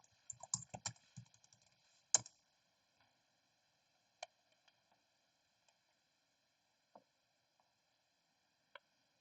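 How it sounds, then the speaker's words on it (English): Password keys tapped on a computer keyboard in a quiet room: a quick cluster of soft clicks, then a louder keystroke and a few sparse, isolated taps. "type in my password."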